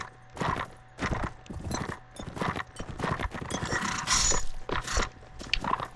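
Repeated bursts of clopping, horse-like noises and short whinnying calls from deer in the game Mount & Blade: Warband, 1776 mod, in quick irregular succession, fairly close and moderately loud.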